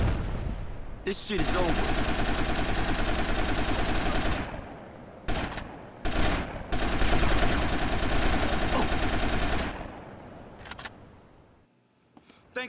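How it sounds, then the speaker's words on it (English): Dense, loud gunfire fills most of a three-way gunfight in GTA: Vice City Stories, with two sustained bursts separated by short gaps and a brief spoken line over the shooting before it dies away. "What is this, a three-way gunfight?"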